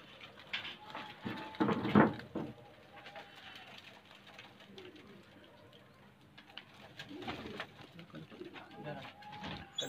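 Several Kalsire, Kaldume and Kalpare high flyer pigeons coo nearby in a loft, low, throaty calls with occasional fluttering and shuffling around them.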